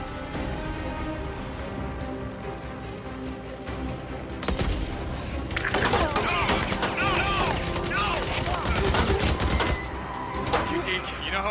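Rapid bursts of gunfire in the Days Gone video game, loud and dense, building in the second half over a continuous game soundscape with a voice speaking partway through.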